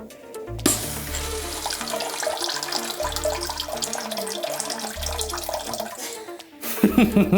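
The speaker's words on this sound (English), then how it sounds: "So let's turn the water back on. Make sure there's no leaks." Water rushes steadily through the supply line of a Mordeer C600 electric bidet after the valve is reopened, a continuous loud hiss and flow with brief pauses and a few knocks.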